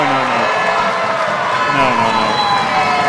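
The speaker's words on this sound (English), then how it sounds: "listen to the sound of the crowd there. Absolutely huge there." A huge crowd roars and cheers at a Roses 2026 basketball game, a dense continuous wall of noise with shouting voices throughout.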